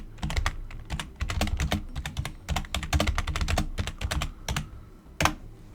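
Rapid clicking and clacking of typing on a computer keyboard while texting someone back, keystrokes coming in quick bursts with brief pauses, close and steady with no voices.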